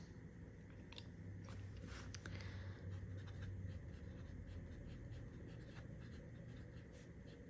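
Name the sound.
writing with an inked fountain pen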